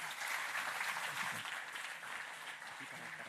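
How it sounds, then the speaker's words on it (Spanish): Audience at a science talk applauding a speaker's introduction, a continuous, fairly faint patter of many hands that eases slightly toward the end. "Un aplauso."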